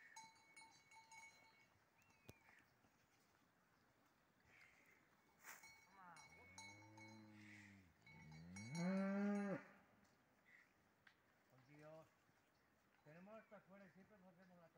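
Cattle being herded low repeatedly, several loud close moos standing out, with a cowbell clanking faintly, while people shout and talk among the animals.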